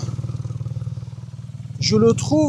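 A BMW R nineT boxer engine with its exhaust valves open idles in a steady loping thump, then rises in a brief rev, with a voice speaking over the final second.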